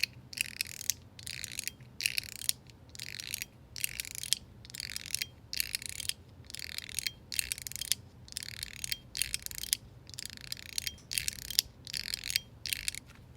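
A full PEEK secret slider fidget toy being slid back and forth, producing a steady series of about a dozen crisp, close clicks at an even rhythm, quiet and alone.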